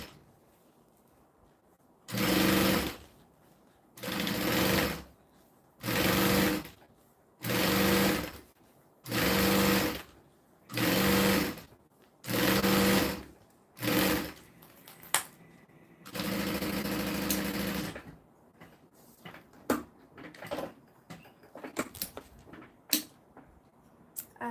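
A sewing machine stitches fabric in repeated short bursts, about eight even runs of motor whir separated by pauses, then one longer run, followed by quieter handling clicks and rustles nearby.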